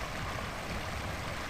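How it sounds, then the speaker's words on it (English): A steady, unbroken rush of running water from a meandering creek in the foothills, quiet and constant with no other sounds. "And of course, the sound of that running water."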